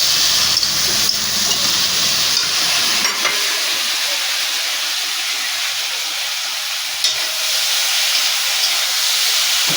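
Spices fry in hot mustard oil in a home kitchen, a loud continuous hiss and sizzle. Early on there is some clatter of stirring, then the frying carries on steady and alone.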